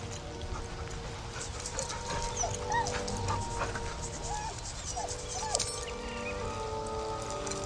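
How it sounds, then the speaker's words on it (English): A dog whimpers nervously in a Baldur's Gate 3 scene, soft high whines rising now and then over a steady ambient bed, with faint hoof-like knocks in the background. "The dog whimpers nervously,"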